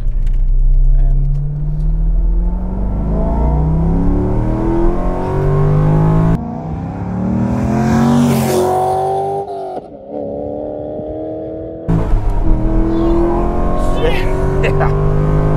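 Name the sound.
C5 Corvette Z06 engine accelerating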